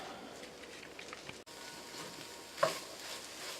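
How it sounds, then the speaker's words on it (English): Chicken fried rice frying in a skillet gives a soft continuous sizzle and crackle, with a brief scrape of stirring near the end; close but quiet, without talk. "As you can hear, this rice is sitting here just frying up in the skillet."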